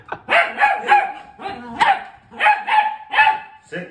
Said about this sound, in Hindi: और आज पापा पर भौंक रहा है।